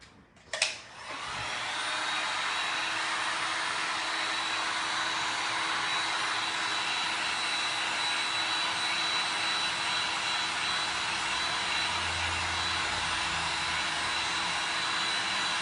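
A handheld dryer or heat tool blows steadily on wet resin over glass art, starting abruptly after a brief click and holding a loud, unbroken airy whoosh for the rest of the clip.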